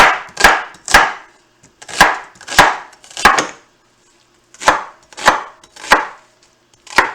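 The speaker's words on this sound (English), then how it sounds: "I'm going to cut the onions. Big chunks." A knife cuts onions into big chunks on a board: sharp, loud, close chops in uneven bursts of two or three strokes with short pauses, and no voices.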